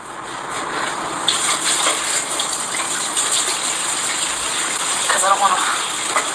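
Tap water runs and gushes steadily into a kitchen sink during dishwashing, with clinks of dishes and a voice speaking briefly near the end.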